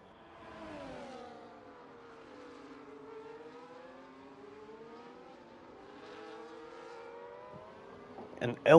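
A McLaren race car engine in a racing video game whines and rises through the gears in a steady, fairly faint tone with gliding pitch sweeps, ending in a brief sharp clatter.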